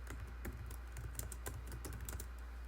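Quiet, steady typing on a computer keyboard, a rapid run of soft clicks and key taps close by with no voice over it.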